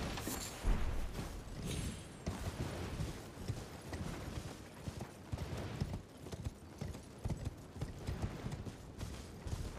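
Horse hooves galloping in the video game Elden Ring, a quiet, rapid and steady clip-clop rhythm with faint background game sounds.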